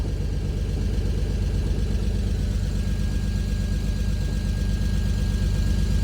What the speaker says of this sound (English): that's a pretty good idle